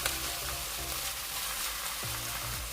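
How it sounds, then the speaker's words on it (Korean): Minced garlic and shishito peppers stir-frying in cooking oil in a preheated pan, a steady close sizzle with occasional scraping stirs and no voices. "마늘 향이 올라오면 꽈리고추를 넣고 같이 볶아주세요."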